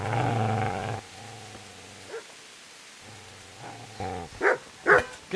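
Dog in the video game Kingdom Come Deliverance growling low and steadily, then breaking into a few loud, sharp barks near the end, with no talk over it.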